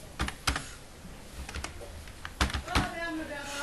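Keystrokes on a computer keyboard while typing Bangla text into editing software: a handful of crisp, close clicks arrive in small uneven bursts, with quieter gaps between them.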